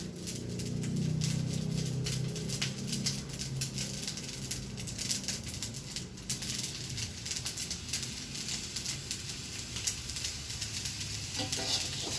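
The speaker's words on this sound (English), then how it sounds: "finally, we put in the soy sauce into the pan" Fried rice sizzling and crackling in a pan as soy sauce goes in, a loud steady hiss with stirring scrapes throughout.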